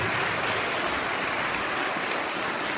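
Schoolchildren at a primary school in Borgotaro clap together in a dense, steady wash of applause that holds loud and even from start to finish.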